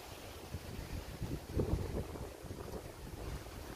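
Wind buffets the microphone with low rumbling gusts, swelling and easing, over a faint watery background, beside a river in Australia.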